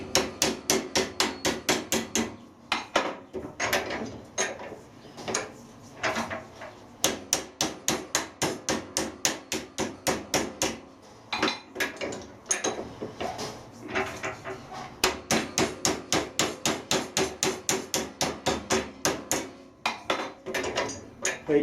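Copper plate hammered to form a flange for a model boiler repair, with long runs of rapid, sharp, ringing metallic blows close by that pause now and then before starting again.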